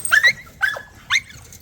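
American Bully puppies giving three sharp, high yips spaced about half a second apart, close and clear over a quiet low hum.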